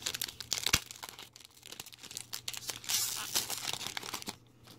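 A Wacky Packages Series 7 trading card pack from 2010 is torn and crinkled open, with close, crisp bursts of wrapper tearing and rustling that swell midway and then fade.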